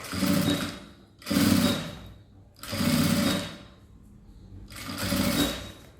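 A sewing machine stitches piping onto a zipper pouch in four short bursts, each lasting about a second with quiet gaps between them, heard up close with no talk.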